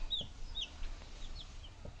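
Ameraucana hens give a few soft, high clucks and chirps, close and fairly quiet, over low background rumble in a backyard coop.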